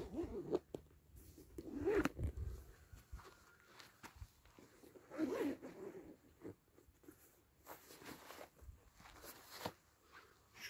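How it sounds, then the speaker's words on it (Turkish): Zipper on a Prologic carp fishing rod pod bag being opened, with short rasping pulls around two and five seconds amid handling and rustling, close and moderately quiet. "İki tane fermuar var."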